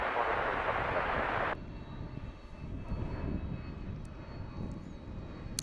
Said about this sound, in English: Checking out that Delta departure on the Airbus.